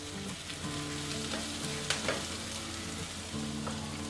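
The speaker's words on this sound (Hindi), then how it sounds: "फ्यू सेकंड के लिए यूँ फ्राई करेंगे" Chicken Manchurian frying in a pan, a continuous dense sizzle with occasional stirring scrapes, loud and close throughout.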